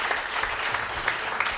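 Studio audience applause at a radio broadcast from a Casa de la Cultura on La Gomera, a dense, loud burst of clapping that carries on evenly through the short stretch.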